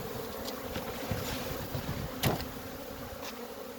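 A new honeybee colony of hybrid vigor bees in a mating nuc hums with a steady, fairly soft buzzing, with individual bees passing close to the microphone now and then.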